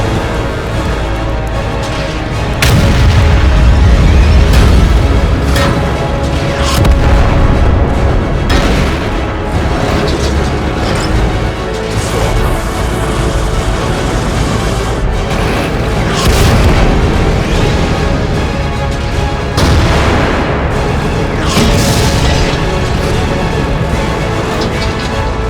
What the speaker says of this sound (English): We need to hit him with artillery!